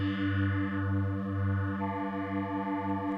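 A synth bassline is heavily treated with a chorus effect at about 90 percent, and a low pass filter shapes the tone. Sustained, thick, wavering low tones pulse in a steady rhythm, loud and up front, with no voice.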